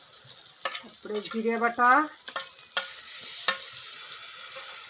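Pigeon meat fries in oil with onion, garlic, ginger and cumin pastes, a steady close sizzling hiss with occasional utensil knocks, while a voice speaks briefly over it.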